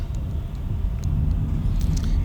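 Heavy road traffic in Mumbai near Santacruz, a continuous low rumble of cars and engines passing close by, with a faint horn-like tone near the end.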